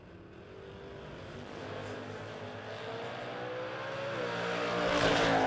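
A 1967 Camaro from Jackson, New Jersey launches at a drag race, its engine note rising steadily and growing louder over several seconds as it pulls hard down the track, with no voices.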